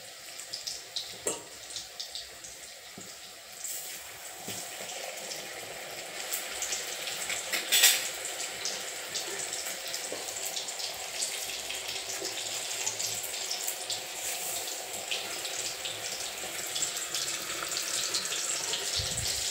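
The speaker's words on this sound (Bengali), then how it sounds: "এবার আমার তেল গরম হয়ে গেছে। এইবারে এই মোচা বড়া ছেড়ে দিলাম" Banana flower fritters in a spiced batter fry in hot oil, giving a steady, quiet sizzling hiss that swells slightly and continues without talk.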